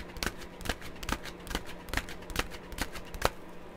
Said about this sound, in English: I'm going to shuffle here just a little bit. Shuffling now.